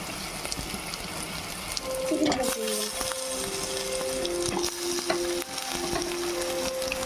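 Chicken going into hot oil in a pan and frying, a steady broadband sizzle that continues throughout with some stirring and clatter, while people talk over it.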